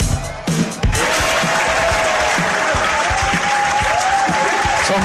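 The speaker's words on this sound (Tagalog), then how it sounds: "bigyan muna natin ng umaatikabong palakpakan" A large crowd at a political rally breaks into sustained, dense applause with some cheering. Whistles and a few voices carry through the clapping.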